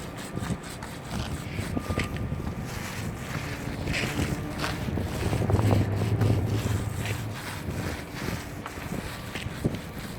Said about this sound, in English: It's a little bit windy out here today.